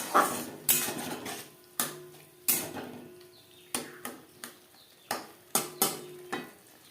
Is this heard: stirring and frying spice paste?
yes